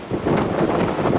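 Typhoon No. 17 winds buffeting outside in Naha, Okinawa, a steady loud roaring gust noise with rushing broadband texture, continuous and close, no talking.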